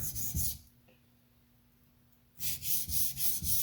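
A TRM Atom knife bevel is sharpened freehand on a stone, with rhythmic rasping strokes close by in two bursts separated by a quiet pause.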